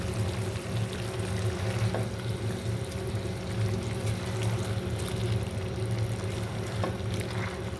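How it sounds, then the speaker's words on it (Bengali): Potatoes go into a carp fish curry simmering in a pan, with a continuous frying sizzle and soft stirring and shifting throughout, close and steady, with no talking. "কষানোর পরে এখন আলুগুলো এর মধ্যে দিয়ে দিচ্ছি।"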